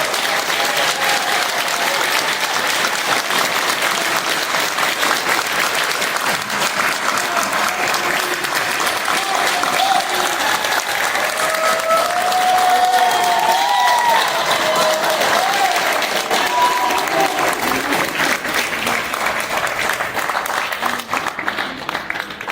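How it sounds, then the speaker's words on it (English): Sustained audience applause and clapping from a crowd at a Nightmare on Elm Street convention panel at Monster Mania, Hunt Valley, steady and loud throughout with some cheering mixed in. "please a big round of applause for Brook Bundy, Ronnie Blakey, Robert Engul"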